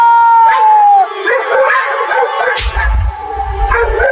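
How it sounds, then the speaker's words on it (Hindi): Several dogs bark and howl together nearby, a long howl at first followed by overlapping yips and barks amid a loud, chaotic commotion. "भौंकना बंद करो"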